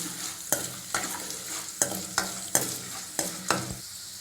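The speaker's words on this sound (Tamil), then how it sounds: "ஒரு 2 நிமிஷம் நல்லா எண்ணெயில் வேர்க்கடலை பொரியட்டும்." Peanuts frying in hot oil with curry leaves and dried red chillies, a steady sizzle broken by about eight sharp scrapes of a spoon stirring the pan, close by with no talking.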